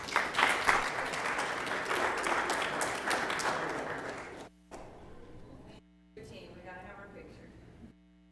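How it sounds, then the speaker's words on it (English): Audience applause at a school board of education meeting honoring a departing board member, steady dense clapping for about four seconds before it cuts off, followed by quieter room noise with a low electrical hum. "Let's give him one more round of applause."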